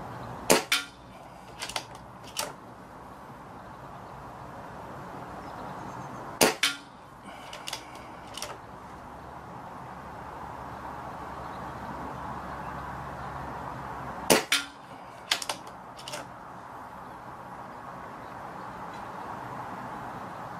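An air rifle fires Falcon Light Hunter pellets at a range of 30 to 50 yards, sharp close cracks in small clusters of two to four shots, spaced several seconds apart over a quiet outdoor background.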